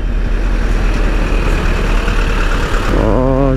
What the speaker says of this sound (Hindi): यहाँ पे इतना जाम कैसा यार